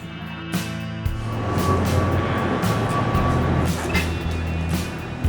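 A train rumbles steadily nearby, with a low continuous drone and rattling that swells slightly, heard as if from on board or beside the track.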